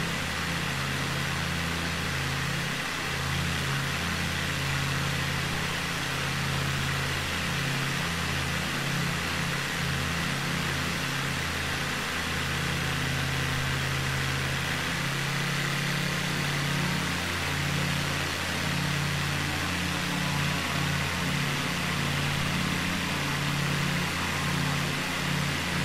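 The engine drone of a Cessna 208 B Grand Caravan in Microsoft Flight Simulator, a steady low hum with a broadband rush that runs unbroken and fairly quiet throughout.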